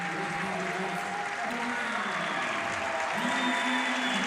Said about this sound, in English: the crowd loves it. They're applauding for him.